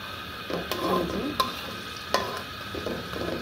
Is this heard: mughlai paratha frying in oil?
yes